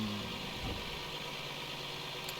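A small scooter's engine idles steadily in Streamer Life Simulator, a low continuous hum with a faint mechanical rattle running unbroken throughout.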